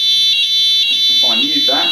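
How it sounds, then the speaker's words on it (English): A Honeywell Notifier fire alarm system sounds in a continuous loud, high electronic tone, steady and close, while a person talks over it partway through. "and we can silence the alarms and we can reset"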